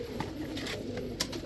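Pakistani teddy pigeons coo softly in a brief, faint burst of low murmuring calls, with several birds crowded together.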